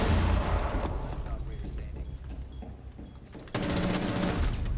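Rapid bursts of gunfire in a Rainbow Six Siege match, drop-shot firing, loud and close with a sharp burst near the end, over game ambience.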